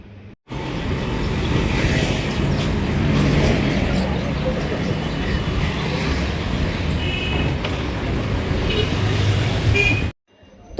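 Steady rumble of a city bus moving through traffic, with road noise and occasional horn toots filling the ride from start to end before it cuts off abruptly.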